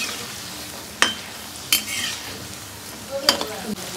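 Lentil dumplings (bari) frying in hot oil in a pan, with a low steady sizzle broken by a few sharp scraping clinks of a spoon stirring against the metal, close and moderately loud.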